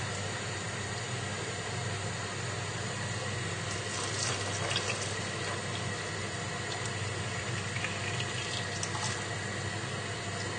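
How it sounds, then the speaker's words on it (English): Stock pouring into a pot of French onion soup base with wine and white wine vinegar, a steady continuous watery rush that runs the whole time at moderate level. "then it's just straight in with your stock."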